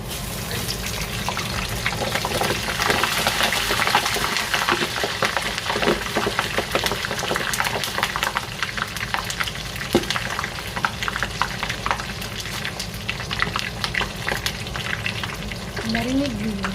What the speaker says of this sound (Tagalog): At para daw malutong ang ating kailangan pisikan siya ng tubig.